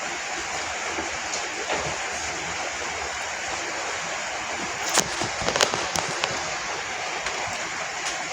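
Steady rain falling outdoors, heard from inside as an even, hissing wash that persists throughout, with a few faint clicks and knocks on top and no one talking.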